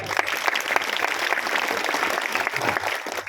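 An audience claps together through a devotional kirtan gathering in Washim, dense steady applause filling the whole stretch without pause, loud and close.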